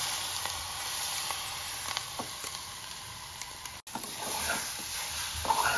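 Curry leaves and garlic frying in hot oil, a steady close sizzle with faint crackles and stirring clicks, no voices.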